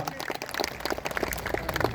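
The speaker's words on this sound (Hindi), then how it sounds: "जोरदार तालियों से स्वागत सह्याद्री नेगी का।" An audience at a large Hindu gathering applauds to welcome Sahyadri Negi, with dense, steady clapping from a crowd that continues throughout.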